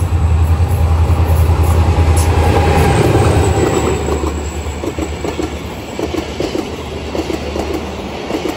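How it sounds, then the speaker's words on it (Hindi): Mehran Express pulling into Malir railway station in the evening behind locomotive HGM 30R 8221, a loud, steady rumble of passing coaches with rhythmic wheel clatter that eases slightly as the train slows, no voices. "तो हमारी आज की 149 आप मेहरान एक्सप्रेस भी आ चुकी है।"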